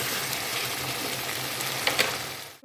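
Beef for dialah fries in a pan with a steady, close sizzle and hiss, a couple of faint clinks near the end before it cuts off.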